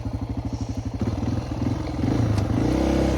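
A small dirt bike rides a dirt track, its engine thumping in a rapid pulse before revving up louder with clattering and scraping, close by with no talk.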